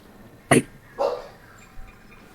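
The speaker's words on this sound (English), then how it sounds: "The dog barks her disapproval of that." A dog barks, a sharp loud bark followed by a softer second one and a faint third yip, close by with no talk over them.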